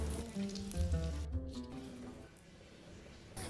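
Crispy Indian-style chicken sizzling in a pan over a medium flame, a steady close frying hiss with some stirring, and occasional soft squishy sounds.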